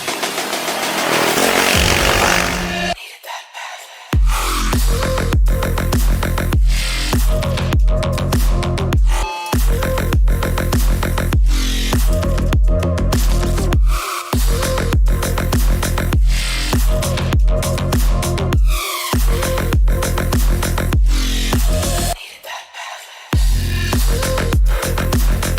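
A Royal Enfield Hunter 350 engine runs loudly and continuously in a series of revving bursts, with several abrupt cuts and brief gaps, and no talking over it.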